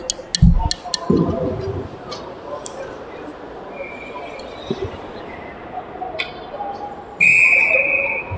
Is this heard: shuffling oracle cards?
no